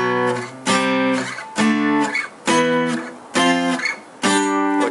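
Tight electric guitar power chords with the unused strings properly muted, played in short, evenly spaced bursts with clear gaps between them, loud and clean with little lingering ring.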